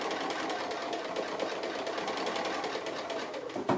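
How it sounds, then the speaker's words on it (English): A sewing machine stitches an appliqué in a fast, steady, even rattle that runs close and continuous for the whole stretch, alone without talk. "So I'll go ahead and keep doing some stitching"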